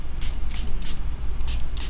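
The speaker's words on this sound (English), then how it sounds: "Should I spray a little fruit enzyme on it, Bob, to make yourself feel better?" Fruit enzyme spray is spritzed onto hair in about five quick, close hissing bursts at a steady pace over a low background hum.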